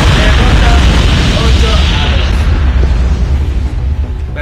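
A bomb blast in the mobile shooter Call of Duty Mobile: a loud, sustained low rumbling boom that fills the clip and slowly fades, with no talk over it.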